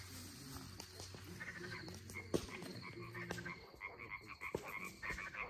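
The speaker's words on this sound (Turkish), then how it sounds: "Yeşil kurbağa." Green frogs croak repeatedly at a night campsite in rain, a dense chorus of throaty calls layered over steady background noise and faint insects, with no talking.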